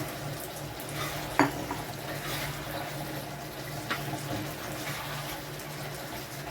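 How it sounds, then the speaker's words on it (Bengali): Fried chicken tipped into a pan of hot sauce and stirred, a steady sizzle with a sharp clank of utensil on pan and a few softer scrapes. "এবারে চিকেনটা দিয়ে দেবো পুরোটা ঢেলে"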